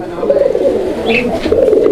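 A male fancy pigeon coos loudly and close up, giving a continuous throaty, rolling call that swells and repeats through the moment.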